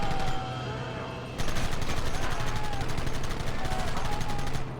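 Rapid gunfire in Red Dead Redemption rattles in dense bursts over a steady game backdrop. It breaks briefly early on, then returns as a sustained barrage with scattered higher shots and whizzes. No one talks.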